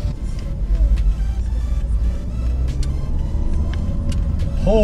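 Car interior rumble in East San Jose as the vehicle rolls backward, a steady low road-and-engine drone with small clicks and squeaks, fairly loud and close.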